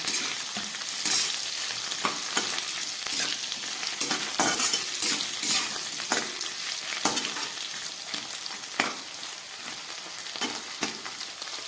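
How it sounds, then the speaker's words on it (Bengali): Potatoes, beans and green bananas fry in a pan, giving a continuous crackling sizzle with frequent scraping stirs and occasional sharper pops; no voices. "আলু আর বিনসটা আমার অনেকটাই ভাজা হয়ে গেছে। এবার আমি দিয়ে দিচ্ছি কাঁচকলাগুলো।"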